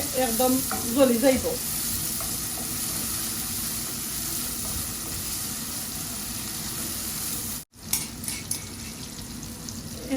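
Chopped onion frying in a hot pan for a dried-fish (shutki) mash, a steady close sizzle with a few stirring scrapes early on, a brief dropout near the end, then the frying resumes.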